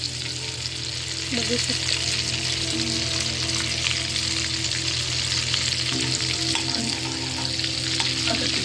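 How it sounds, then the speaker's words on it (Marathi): Amul butter melts with a steady, close sizzle in hot oil in a pan for home-style butter chicken, and a voice speaks briefly over the constant frying hiss. "हे आपण अमूल बटर टाकून घेऊया"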